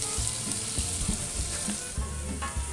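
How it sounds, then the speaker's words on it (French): Cuttlefish pieces sweat with sliced onions in a saucepan, giving a steady close sizzle with soft stirring scrapes and bubbling throughout and no voices. "fait suer les morceaux de margate dans une casserole avec des oignons émincés"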